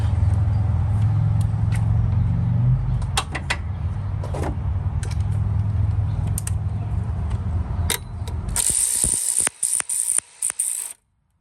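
A ratchet wrench tightens the alternator terminal nut on a Honda Accord, working in quick metallic clicking strokes over a low background hum, followed by a few sharper clicks before the sound cuts off.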